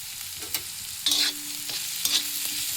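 Onions for a bread burger filling fry in a pan under a low sizzle. Two or three sharp scraping bursts mark a spatula stirring and turning them, close and clear.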